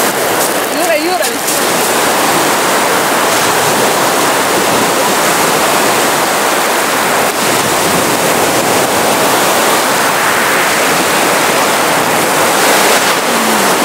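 Baltic Sea waves wash continuously near a seaside sauna, a loud, steady broadband roar of surf with no clear breaks, and a brief voice at the very start.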